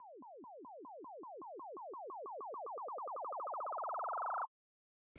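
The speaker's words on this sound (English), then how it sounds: "So the next layer I will show you is this little riser," A synthesized sine-wave riser built from repeating downward chirps that speed up and climb in pitch, growing louder over about four and a half seconds before stopping abruptly, with a short click at the end.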